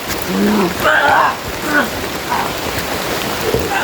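Steady rain hissing on surfaces outdoors, continuous and fairly loud, with people shouting intermittently over it.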